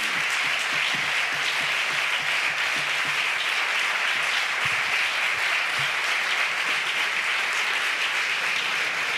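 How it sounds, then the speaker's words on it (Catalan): Sustained applause from members of several parliamentary groups fills a parliament chamber, a dense, steady wash of many hands clapping at even loudness throughout, with no talking. "Estan aplaudint dones de molts grups parlamentaris diferents"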